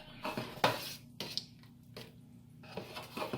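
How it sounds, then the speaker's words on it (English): Metal spoon scraping and knocking inside a big pot of gumbo, a few irregular clinks and scrapes at close range with quiet pauses between them, no voices. "make sure you stir from the bottom"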